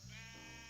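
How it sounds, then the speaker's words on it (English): A pink sheep in Minecraft lets out a single short, wavering bleat, clear and close in a quiet moment. "The beautiful pink sheep."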